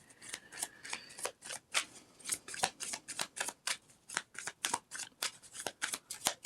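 Tarot cards riffled and shuffled by hand, a dense run of crisp, papery snaps and flutters repeating in quick bursts, close and fairly quiet with no voice over them.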